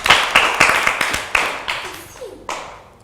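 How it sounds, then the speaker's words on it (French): Claps ring out for a circus act, a handful of separate, loud, close slaps spaced irregularly, more like a few people clapping than a full audience. "On acclame très très très fort"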